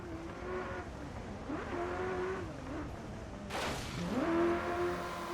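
A Ferrari F40 race car in a racing video game replay drones steadily, its engine note climbing and dropping through gear shifts, with a sharp burst of noise near the middle. Other cars rumble faintly behind.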